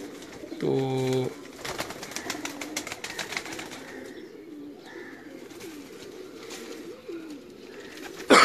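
Pigeons in a large loft in Pakistan give one clear, close coo, with softer bird sounds and someone talking intermittently afterward.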